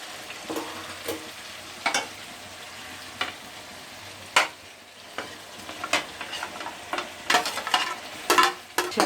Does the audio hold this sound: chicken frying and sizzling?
yes